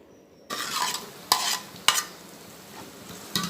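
Ginger garlic paste frying in a pan for a masala cashew gravy, a soft steady sizzle with several sharp scrapes of a spoon stirring against the pan, close and without talk.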